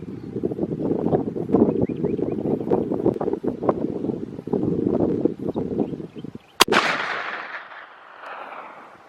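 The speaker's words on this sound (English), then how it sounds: "Huh, the wind's changed." Outdoor wind at a long-range shooting range rumbles and buffets the microphone in strong low gusts, followed by a sharp loud crack and a fading rushing tail.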